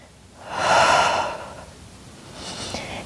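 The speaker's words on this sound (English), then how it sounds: "Nice big inhale and exhale." A deep inhale and exhale during a Pilates workout: one strong, airy breath swells and fades over about a second, followed by a softer second breath, close and with no talking.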